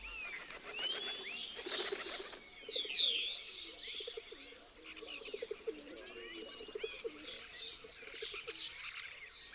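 Pigeons coo in soft, repeated low phrases at a dovecote in the Tierra de Campos plains, while higher chirps and tweets from other birds overlap throughout.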